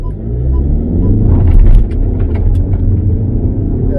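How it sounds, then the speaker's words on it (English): Skoda Superb Estate in sports mode accelerating hard from 0 to 60, heard from inside the cabin as a steady loud engine and road rumble that swells briefly partway through, with no talk. "We're now going to try another 0 to 60."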